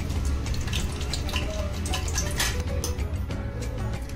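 Ground spice paste frying in hot oil with a bay leaf in a kadhai (wok) on a gas stove: a steady, close sizzling hiss with small crackles throughout and no talk.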